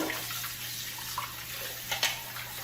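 A juicer part is rinsed under a running kitchen tap, giving a steady broadband hiss of flowing water with a low hum beneath and a few brief splashes and knocks as the part is handled; no one speaks.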